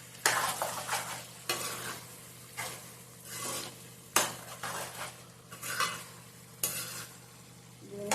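A spoon stirs mutton curry in a pan with a series of loud, scraping strokes roughly every second, each trailing into a soft sizzle, and no one speaking.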